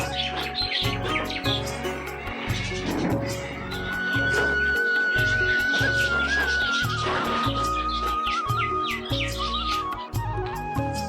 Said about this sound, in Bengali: আর আপনারা এখন এগুলোর কিচিরমিচির ডাকগুলো শুনুন।